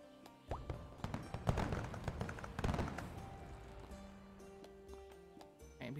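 Fireworks pop in a cozy fantasy forest video game, a cluster of sharp crackling bursts and thuds over the first few seconds, then a softer tonal jingle trailing off alone.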